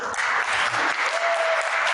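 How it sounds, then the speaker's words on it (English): A university event audience claps in a full round of applause, dense and steady throughout with no voices over it. "give her a round of applause"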